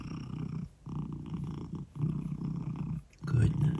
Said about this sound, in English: He's an expert at purring